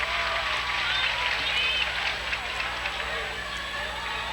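A high school basketball sectional semifinal crowd in a gym reacts with a broad, sustained roar and murmur after a missed free throw, a busy wash of noise throughout at moderate distance.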